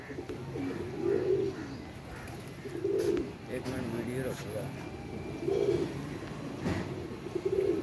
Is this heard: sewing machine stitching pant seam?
no